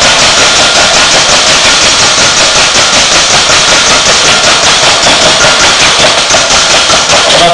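Egg whites whisked briskly in a bowl for a chocolate fondant, a dense, steady rapid scraping rattle that stays loud and unbroken throughout.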